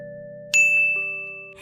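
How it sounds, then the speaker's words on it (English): A notification bell sound effect: a bright, clean electronic ding with a ringing tone that sustains and fades over about a second, loud and alone, followed by a brief swoosh at the end. "hit that notification bell"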